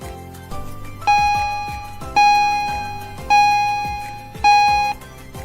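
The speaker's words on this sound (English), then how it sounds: "Oh, the bell is ringing." A school bell rings in four evenly spaced, bright ding-dong strikes over a soft musical backing, each tone sharp at onset and then decaying before the next, with no talk.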